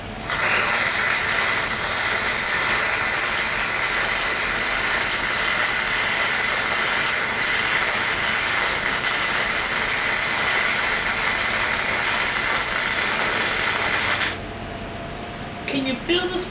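A welder at work in a carport shop throws off a loud, steady crackling hiss for about fourteen seconds, then it cuts out, leaving quieter background noise.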